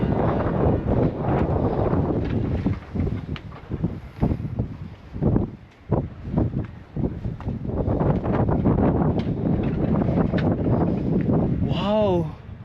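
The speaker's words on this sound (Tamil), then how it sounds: "ஆனால் என்ன, காற்று தான் அடிக்குது." Wind gusts over a hilltop at Marpha, a village of stone houses and apple orchards, and buffets the microphone as a heavy, continuous low rumble while someone talks throughout.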